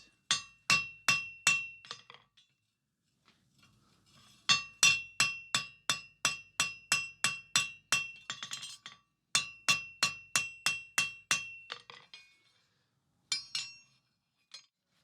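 Rivet heads on forged fireplace tongs being hammered, sharp ringing metallic blows in quick, even bursts of several strikes with short pauses between them, close and clear with no talk.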